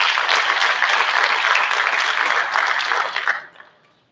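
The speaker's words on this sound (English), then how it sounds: "So a round of applause for Penny." A school board meeting audience gives a student a round of applause, with dense, lively clapping that holds steady and then quickly dies away in the final second.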